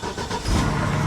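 A cheap salvage-auction Corvette convertible with likely serious faults starts up, a brief cranking rush swelling into a steady, close engine rumble that carries on.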